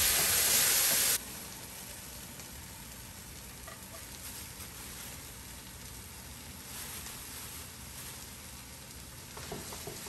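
Tomatoes and onion sizzle steadily in a pan on the stove for an Ethiopian dish, a soft continuous hiss after a brief louder burst at the start, with no voices.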